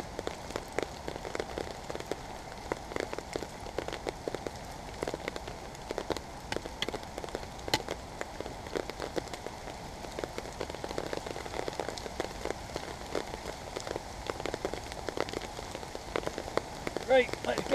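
Steady rain falls on damp woodland ground in wet conditions, a continuous dense patter with scattered sharper drop hits close by, lasting throughout without speech.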